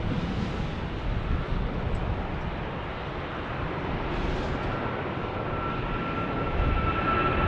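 A departing airplane flies past at Phoenix Sky Harbor Airport, its broad, roaring engine noise sustained and fairly steady with some wind buffeting, and a thin whine emerging toward the end.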